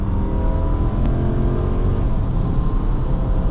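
A 2007 Lexus LX470 accelerates hard from a full stop with a little wheel spin. A loud, close, steady engine roar fills the whole stretch.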